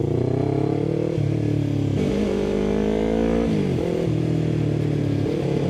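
A Yamaha R3 V2 parallel twin revs steadily through a long exhaust pipe, its deep, even drone rising and dropping in pitch across several throttle blips, loud and close with no talking.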